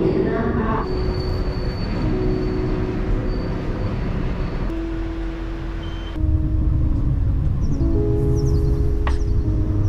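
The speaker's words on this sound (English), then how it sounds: "I made it to the train station without a hitch" Train station in Prague in winter with trains moving through; rumbling wheels and rolling stock, sustained tonal squeals and hums from rails and motors, loud and close, with faint voices in the background.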